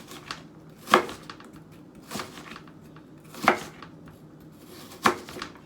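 A knife chops onions on a cutting board in four sharp, spaced strikes with short scraping tails, close and alone in a quiet room.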